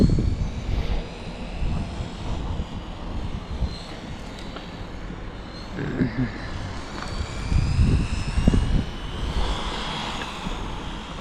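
A Hobao Hyper EPX electric RC truck on a 2S battery, running without gyro, drives laps on a homemade outdoor track in cold weather, its motor whining and rising and fading as it passes, with bursts of rough rumble, while someone talks.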